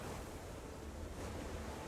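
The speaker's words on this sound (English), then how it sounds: "That waterfall is really loud" A waterfall in the game Guild Wars 2 roars as a steady, dense rush of falling water, loud and continuous with no break and no voices.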